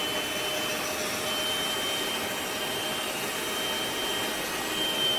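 An electric hand mixer beats sweetened condensed milk into batter for a milk cheese tart, giving a steady, unbroken whirring drone at close range with no speech.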